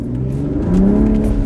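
A car engine revs alone, its steady drone climbing in pitch partway through and holding there, fairly loud and close with no voices.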